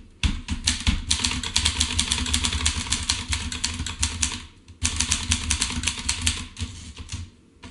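A typewriter clatters out a poem, keys striking in a rapid, dense run, close and loud, with a brief break partway through before the typing resumes.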